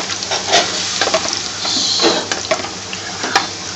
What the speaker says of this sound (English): So stir it nice and gently, stir the frying pan